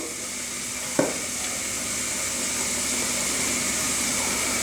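Pasta is stirred in a hot pan with a little pasta water, giving a steady soft sizzling hiss, with one brief clink of a utensil against the pan near the start.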